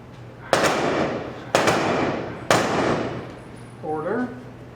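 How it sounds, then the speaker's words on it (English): A three-shot rifle volley fired at a memorial service: three loud, sharp reports spaced about a second apart, each ringing out with a long echoing tail, followed by a brief tonal call near the end. "Please prepare yourself for the rifles volley."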